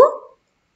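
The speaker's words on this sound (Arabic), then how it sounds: "إنه كلب" A dog gives a single short, loud bark that stops abruptly, with silence after.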